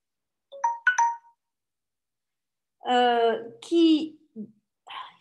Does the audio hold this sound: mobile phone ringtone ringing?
yes